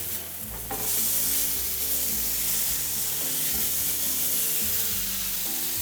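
Steak frying in an air fryer after being flipped, coated with a little avocado oil, giving a steady close sizzle and hiss that swells after a soft start and keeps going without pause.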